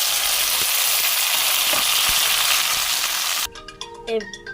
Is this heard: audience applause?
no